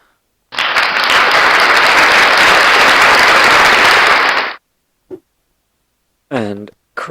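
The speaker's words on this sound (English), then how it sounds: "And applause." A recorded applause effect plays from a V8 wish sound board, a loud, dense burst of clapping lasting about four seconds that cuts off abruptly, followed by silence and then a brief spoken voice.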